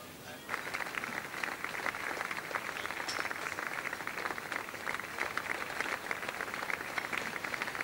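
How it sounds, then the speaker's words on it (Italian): A crowd at a trotting awards evening applauds the team of the mare Regale with continuous, fairly distant clapping that holds at an even level through the whole stretch. "Ancora un applauso per il team di Regale"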